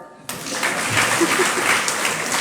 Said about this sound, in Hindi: अपने ऊपर ताली बजाओ